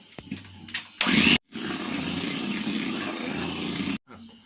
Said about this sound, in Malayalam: ഞാൻ ഇതിലേക്ക് ഒരു 3 ടേബിൾ സ്പൂണ് സൺഫ്ലവർ ഓയിൽ ഒഴിച്ചിട്ട് ജസ്റ്റ് ഒന്ന് ബീറ്റ് ചെയ്തെടുക്കുന്നുണ്ട്